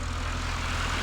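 Steady broadband wind rush and engine drone inside a Piper J3 Cub in flight, continuous and loud with a low propeller throb underneath, no talking.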